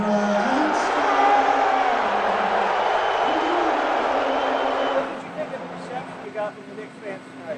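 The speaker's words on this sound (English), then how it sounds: "see if you can hear whether more people cheering or more people booing" A large crowd at a Knicks basketball game in an arena roars with Donald Trump in attendance, a dense sustained wall of cheers and boos that cuts off about two-thirds through, leaving quieter ambience.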